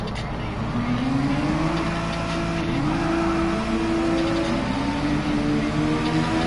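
Ferrari F1 race car engine in the Gran Turismo Sport video game, a continuous high whine that rises and steps through gear changes, loud and steady throughout with no talking over it.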